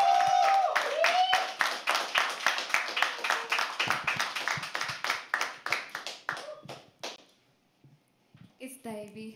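Audience clapping at a live poetry open mic, a dense burst of applause that thins into scattered claps and fades out, with voices over the opening.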